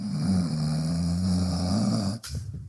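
Soundboard snoring effect, a steady loud rumbling snore with low buzzing tones that runs for about two seconds, then cuts off abruptly into a brief snort-like tail.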